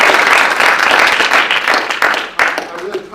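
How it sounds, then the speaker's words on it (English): Audience applauding students at a young entrepreneurs event, a dense, loud burst of many hands clapping that stays close and sustained before slowly thinning out. "So a round of applause for all the students."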